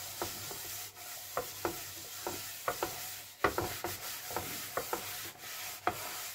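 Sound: scrubbing burnt pan with steel wire scourer and dish soap

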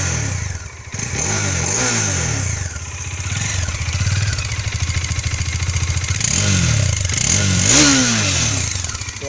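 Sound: Bajaj Dominar 400cc motorcycle engine starting and revving

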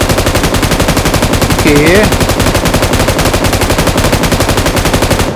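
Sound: M249 machine gun fire in PUBG Mobile video game

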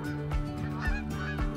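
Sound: alarmed geese honking in theHunter: Call of the Wild video game

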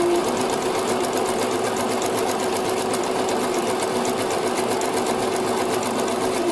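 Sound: sewing machine stitching zigzag around school uniform fabric

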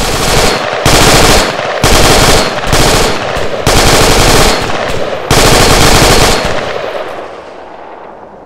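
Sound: gunfire in the video game Arma 3

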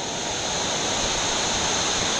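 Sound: rushing waterfall on whitewater river

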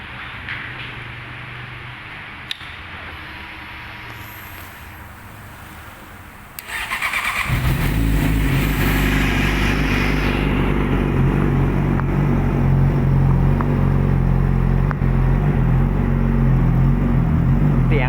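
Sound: Yamaha YZF-R6 motorcycle engine starting and running, slip-on exhaust

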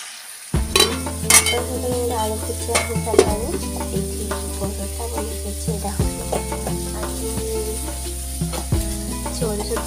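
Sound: frying chilli with green chillies, onion and sauce

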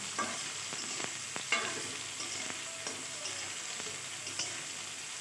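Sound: potatoes frying with onion and cumin

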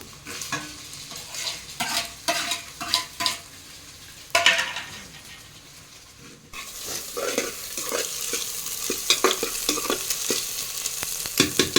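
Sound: stirring and frying onion and tomato for fried rice

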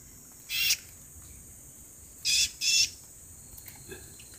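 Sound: caught wild bird chirping

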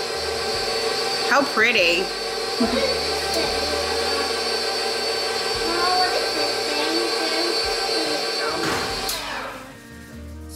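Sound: electric mixer slowly mixing melted chocolate and butter on low speed

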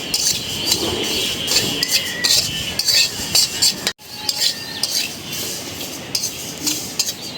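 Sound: dry-roasting black cumin (kalijira) in a pan without oil

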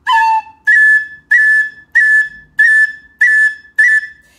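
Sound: tin whistle note with cut ornament

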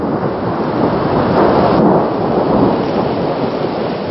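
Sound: thunderstorm with rain on Odaesan mountain

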